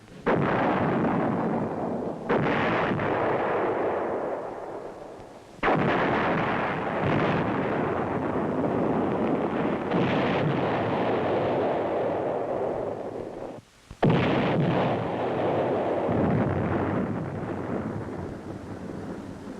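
Pre-planned artillery fire in the Vietnam War, heard as a sustained series of heavy, rumbling booms with brief gaps between salvos, loud and continuous without speech.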